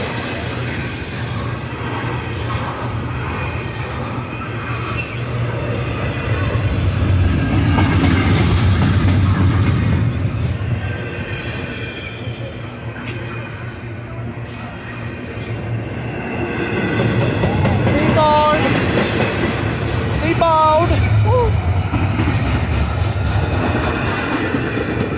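A long CSX double-stack freight train rolls past at close range, a steady loud rumble of wheels and cars with metallic squeals and clickety-clack, building and easing over the passage, no talking.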